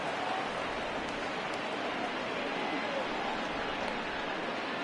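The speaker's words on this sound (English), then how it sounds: "This isn't an easy sport to play in the rain." Steady rain pours down in a PS4 baseball game, a dense even hiss of rainfall filling the scene throughout, with faint crowd ambience beneath.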